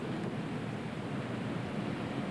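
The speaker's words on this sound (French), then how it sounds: "on entend le vent" Wind blowing through a deserted place, a steady, even rushing roar that holds constant throughout with no voices.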